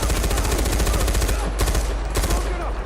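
Rapid automatic gunfire in the video game Far Cry 4, a loud continuous stream of closely spaced shots with a couple of brief pauses, dense and close throughout.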